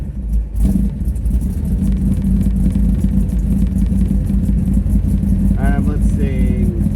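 A 1957 Chevy barn-find car idles steadily on a cold day while warming up, its engine a constant close, loud, low rumble, with a voice speaking briefly near the end.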